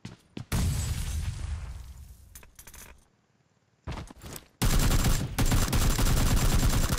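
Gunfire in the video game PUBG Lite comes as loud, close bursts of rapid automatic shots, broken by a short near-silent gap and then a long sustained volley.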